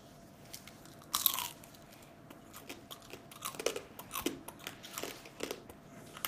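Ginger crab shells crunch loudly under close biting and chewing, with sharp irregular cracks and crackles that repeat through the clip, recorded near the mouth with no talking.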